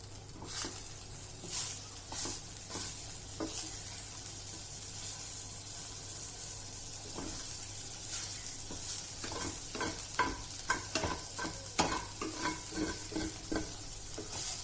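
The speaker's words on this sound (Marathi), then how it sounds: "चला तर छान फ्राय करून घेऊया आपण वड्यांची चव अजून वाढण्यासाठी आपण या टाकूया थोडा बटरचा तुकडा" Soybean chunks sizzle steadily in a pan with a knob of butter, a constant quiet frying hiss broken by frequent scraping and stirring clatters, no voices.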